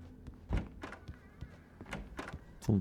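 A door in the video game Alan Wake Remastered gives a heavy thunk near the start and another solid knock at the end, with faint scattered clicks and creaks between them and no talking.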